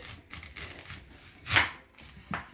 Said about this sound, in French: au tiers de l'oignon, et vous venez couper en fait